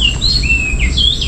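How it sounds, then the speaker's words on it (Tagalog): Birds chirp and sing in the Philippine countryside, a few high sliding whistled notes repeating over a steady low background hum, close and clear with no talk. "Nakakatuwa din sila pakinggan, mga ka-journey, yung huni ng ibon."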